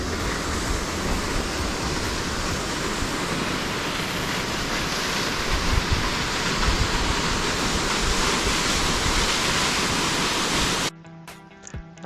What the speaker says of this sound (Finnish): Lisää vesiputouksia.